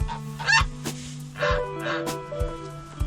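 Geese honk repeatedly in short, nasal bursts at an uneven rhythm, fairly close, over a low steady hum.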